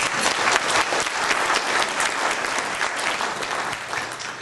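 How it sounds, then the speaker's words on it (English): An audience applauds at a recovery-oriented systems of care talk, a loud, dense, sustained clapping from a large crowd that fills the whole stretch without speech. "It's great that I can come up here and people clap for that."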